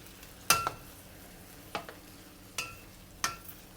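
Potatoes and long beans tossed in sauce in a wok, a few distinct scraping clacks of a spatula at irregular intervals over a faint low sizzle.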